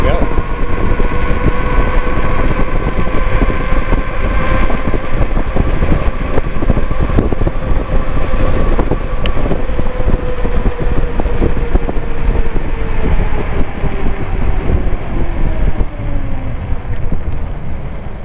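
A Wired Freedom e-bike on a low battery accelerates on throttle alone, a steady rising motor whine under heavy, constant wind buffeting across the microphone.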